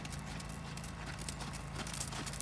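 A horse's hooves beat a steady walking clip-clop on a 15-meter circle in a riding arena during a lesson, continuous and fairly loud against broad background noise.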